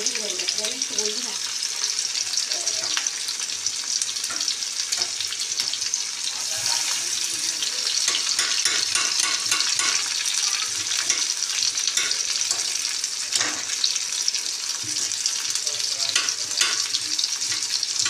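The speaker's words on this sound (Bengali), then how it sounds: "মাছগুলো কড়াই দিয়ে তেল গরম হয়ে গেছে, এবার দিয়ে দিচ্ছি কুচানো পেঁয়াজ।" Chopped onion crackles and sizzles in hot oil in a wok, a continuous close, bright frying hiss with scattered pops and spatters throughout.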